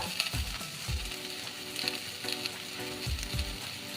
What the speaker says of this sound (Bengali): এই চার চামচ মতো নারকেল কোড়াটাও ভালো করে ভেজে নেব